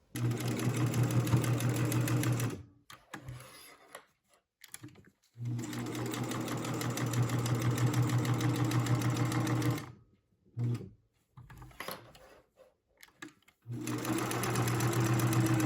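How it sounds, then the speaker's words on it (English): A sewing machine sews around the edges of a small fabric snap pouch in steady bursts of rapid stitching, stopping briefly a few times with quiet handling sounds between runs. "take the whole thing to the sewing machine and sew all the way around the edges"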